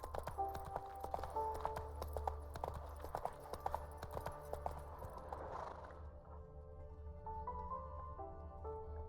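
Roach the horse from The Witcher 3 trotting, with a run of crisp clip-clopping hooves that slows and settles as the horse stops, ending with a brief snort or whinny.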